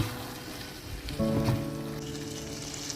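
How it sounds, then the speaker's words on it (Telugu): Boiled eggs being stirred into a sizzling brinjal egg curry, with a steady sizzle and a short burst of stirring and clatter partway through, nearby, with no voices. "ఇప్పుడు మనం బాయిల్ చేసిన ఎగ్స్ యాడ్ చేసుకొని బాగా ఊరంతా మొత్తం ఒకసారి కలుపుకోవాలి"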